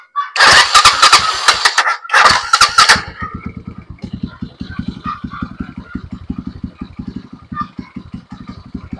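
A Euro 150 motorcycle engine cranks twice on its electric starter in sharp, loud bursts, then catches and settles into a rapid, steady idle putter that runs to the end.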